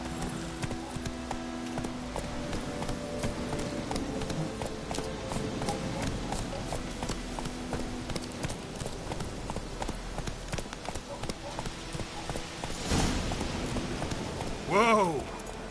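Roach the horse galloping in The Witcher 3: steady, rhythmic hoofbeats run throughout at a constant mid level, with in-game voices speaking over them and a brief whinny near the end.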